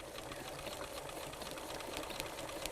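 Sewing machine stitching a decorative stitch through fabric with a quilting needle, a steady close whirring and rapid needle clatter running continuously without pause.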